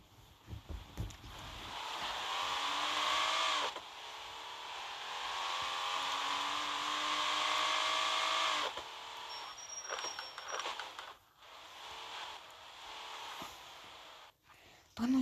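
Racing video game car engine whining and rising in pitch as it accelerates, with long sustained tones broken by brief gear drops and tire noise, loud and continuous with a few pauses.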